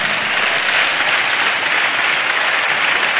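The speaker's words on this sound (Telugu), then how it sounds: "ఎంత ఓపుకుంటే అంత పెద్దగా చప్పట్లు కొడతా" Loud, dense applause from a church congregation fills the space, a steady wash of many hands clapping without pause for about three seconds.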